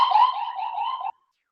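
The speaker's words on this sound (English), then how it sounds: "Oh, we got the sirens here." A siren sounds outside as one steady, loud electronic tone that holds for about a second and then cuts off abruptly into silence.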